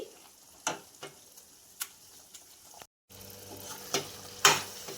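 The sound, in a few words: tomato pickle frying in oil tempering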